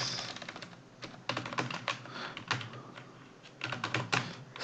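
Close fingers type text on a computer keyboard in quick bursts of clicky keystrokes, broken by short pauses, fairly faint and with no voice over it.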